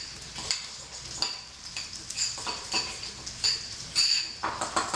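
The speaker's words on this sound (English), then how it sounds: "You want to mix up your butter with the zest and the blue cheese." Butter being mixed with lime zest and blue cheese in a bowl, giving repeated scraping and tapping strokes of a utensil at a steady working rhythm, close and fairly quiet with no talking.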